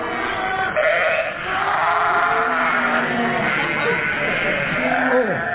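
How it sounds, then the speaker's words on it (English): Sheep bleat in a steady stream across the whole stretch as part of a comedy radio scene. The wavering cries carry under a busy, lo-fi background. "I've never seen so many sheep."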